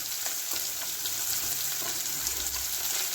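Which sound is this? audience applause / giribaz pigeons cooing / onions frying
onions frying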